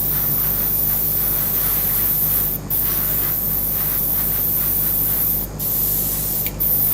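An airbrush spraying paint gives a loud, steady hiss that runs continuously, broken by a few very brief pauses, heard up close with no talking.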